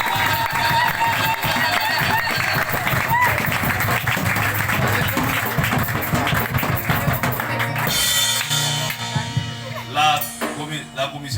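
A church congregation claps and cheers for the Lord, with dense continuous applause and raised voices filling the room, loud and steady throughout with a slight change in texture near the end.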